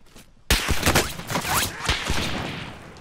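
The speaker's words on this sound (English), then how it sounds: "They're taking shots at me." Gunfire in the video game Warzone: a burst of sharp, loud cracks and whooshing shots starts abruptly after a quiet moment and continues as dense, irregular fire with no talking.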